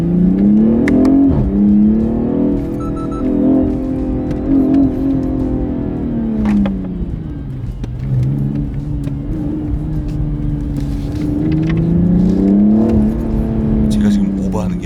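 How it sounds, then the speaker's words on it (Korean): BMW 840i Gran Coupe engine in Sport Plus mode revving and accelerating while driven manually, a loud, close, sustained note rising and falling in pitch across shifts, with a voice talking over it at times. "스포츠 플러스 모드의 엔진 사운드를 들려드려야 되니까 수동으로 주행을 하도록"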